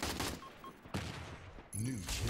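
Rapid bursts of gunfire from a team shooter video game come in loud clusters at the start and again near the end, with a quieter stretch between them and voices talking over the shots.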